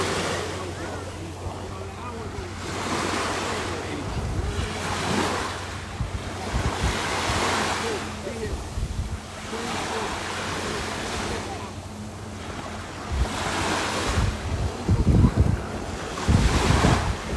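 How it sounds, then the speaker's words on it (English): Ocean waves surging onto the shore on a sunny day, slow rolling washes of surf one after another, loud and close, with steady wind buffeting the microphone. "just sitting out here enjoying the sun, enjoying the water, the ocean sounds"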